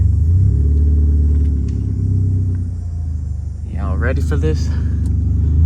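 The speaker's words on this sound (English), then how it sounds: "We'll show you front wheel donuts in a front wheel drive Ford Fusion." A rigged front-wheel-drive Ford Fusion idles with a low, steady engine rumble close by, and a voice speaks over it near the end.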